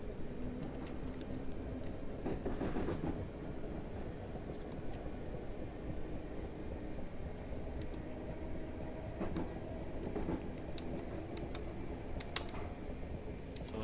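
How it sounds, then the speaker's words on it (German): Class 455 electric multiple unit accelerating in Train Simulator 2019 on the Portsmouth Direct Line, a steady low traction rumble and rail noise with scattered clicks, continuous and fairly close, no talking. "Ich frage mich mal, warum der Zug so doll beschleunigt."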